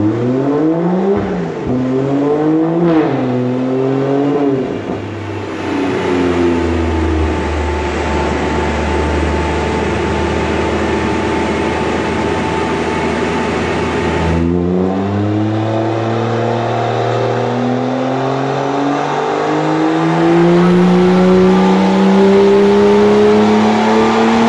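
A Stage 3 BMW M2 with a bigger turbo, running on methanol injection, revs hard and loud, its engine note climbing, dropping and then climbing again in long sustained pulls with no talking.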